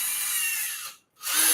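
A power drill bores into a squash with a steady, close, harsh whir, stops briefly for a moment of silence, then starts up again at full loudness.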